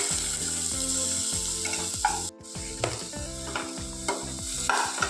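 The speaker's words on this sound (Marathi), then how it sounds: "टोमॅटो थोडा एक दोन मिनिट परतून घ्यायचं" Tomatoes sautéed in a pan for spinach soup, with a steady soft sizzle under repeated scraping strokes of a spatula, a brief pause midway, close up with no talk.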